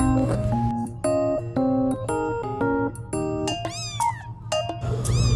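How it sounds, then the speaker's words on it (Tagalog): A house cat that has just given birth to four kittens meows repeatedly and insistently, with about a dozen close, loud, tonal calls in quick succession over a low background hum. "nanganak na yung mommy cat namin na si Mochi"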